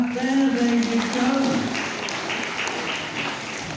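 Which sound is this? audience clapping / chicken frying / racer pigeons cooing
audience clapping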